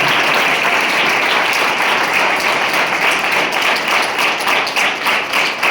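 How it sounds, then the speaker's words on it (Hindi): A crowd at a school results ceremony applauds to welcome guests, dense steady clapping filling the space at a strong, even level for several seconds. "आप एक बार जोरदार तालियों से इनका स्वागत करें।"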